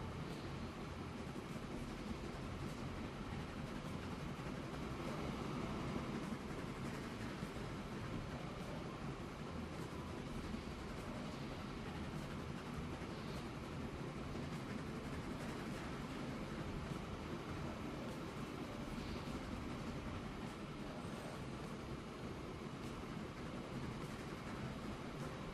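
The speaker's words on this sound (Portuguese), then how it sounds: "Esse é o último trem que já vai voltar para a garagem" A train rolls along rails in Transport Fever 2, a steady, faint, noisy rumble running unbroken for the whole stretch with no voices.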